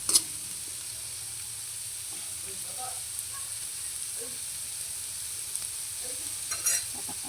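Carrots and eggs sizzle steadily as they are stir-fried in a pan, a constant frying hiss with occasional soft scrapes of stirring and a few louder clinks near the start and end.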